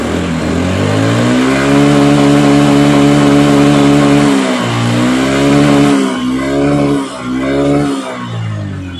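A Vespa scooter engine runs slowly at a loud, close, steady idle, its buzzing drone wavering and dipping several times toward the end.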